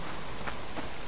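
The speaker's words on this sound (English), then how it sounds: "Here comes the rain." Rain in the survival video game Subsistence, a brief, steady patter and hiss of falling drops, evenly loud with no breaks, no talking.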